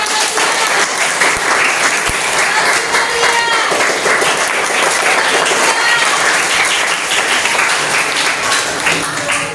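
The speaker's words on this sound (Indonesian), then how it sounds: "Silakan berikan tepuk tangan" Loud, dense audience applause in a classroom or hall setting, steady clapping from many hands sustained throughout with faint voices mixed in.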